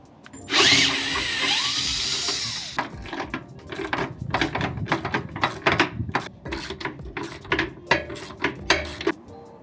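A power tool whirs under a 2023 Chevy Colorado while removing a 13mm bolt and nuts from an EVAP bracket, a sustained drill run followed by rapid ratcheting clicks and metallic taps.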